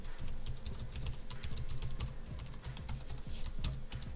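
Fast, dense keystrokes on a computer keyboard while a password is entered during software setup, a steady close clatter of clicks with no talking.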